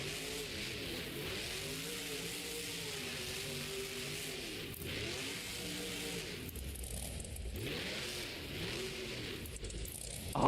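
A monster truck engine drones and revs through a wheelie at a Monster Jam show in New Orleans, a loud rising and falling roar heard from the arena crowd's distance with rain-like noise around it.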